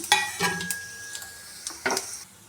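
Curry leaves and spices sputter in hot oil in a pan for tomato curry (gojju), with scattered crackles and sizzling bursts mixed with a few utensil clinks and stirring, close and moderately loud.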